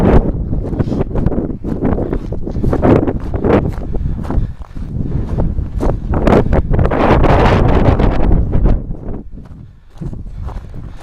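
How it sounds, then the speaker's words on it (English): Strong gusty wind buffets the microphone on top of a defunct volcano at Grábrók in Iceland, roaring loud and continuous with surging peaks, with faint footsteps on the crater path underneath. "Bit windy"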